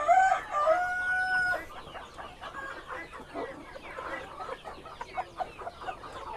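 KUB chickens, a large-bodied Indonesian breed, crow with a clear rooster call near the start, then cluck and chatter steadily as a flock close by, with overlapping calls throughout and no speech.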